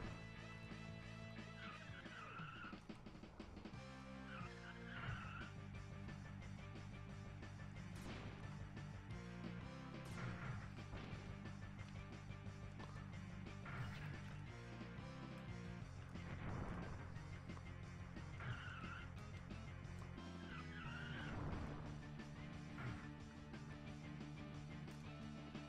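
Rock n Roll Racing on the SNES, with cars revving, skidding and smashing into each other over driving chiptune music; dense, continuous game audio with repeated impacts and no talking.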